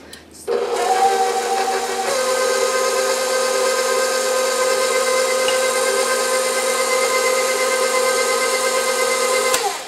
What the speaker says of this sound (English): then you're just going to mix with the whisk attachment